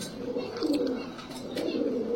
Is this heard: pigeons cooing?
yes